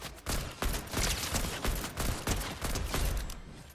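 Rapid bursts of gunfire from players shooting in the Fortnite video game, dense overlapping shots crackling loud and close in quick succession, with no talk over them.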